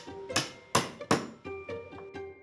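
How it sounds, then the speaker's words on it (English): A hammer strikes a chisel while carving corners out of wooden seat legs for a handmade seat base. Three loud, sharp blows come first, then three softer taps in an uneven rhythm, with no voices. "I'm using a router for speed and a hammer and chisel for finesse to carve out corners from each leg"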